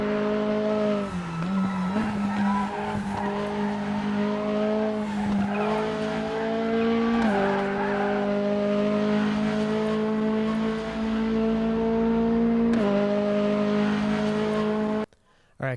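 Mazda MX-5 in the RaceRoom sim at Sonoma Raceway, its engine droning loudly at high revs with several abrupt pitch drops as it brakes and downshifts, tyres squealing, while someone talks over it.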